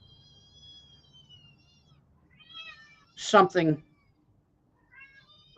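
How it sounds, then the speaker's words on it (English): Pet cats meowing indoors, two close, strong meows in quick succession, with fainter mews before and after and a voice speaking quietly beneath at the start. "I hear your cats."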